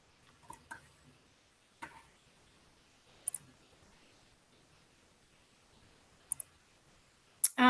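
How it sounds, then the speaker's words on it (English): Sparse computer mouse clicks, single and double snaps spaced irregularly several seconds apart over near silence, close and fairly crisp, with a louder sound at the very end. "I'm clicking on share screen."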